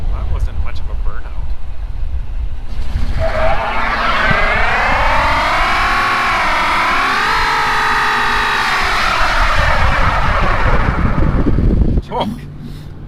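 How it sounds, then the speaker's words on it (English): A car spins its tires in a burnout on grass, the engine holding a loud, sustained rising and falling roar for several seconds before cutting off abruptly, with voices faintly audible beneath it. "started doing a burnout on the grass for some reason"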